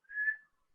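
A single short, clear whistle, blown to call a cat, rising briefly and fading within half a second, alone in near silence.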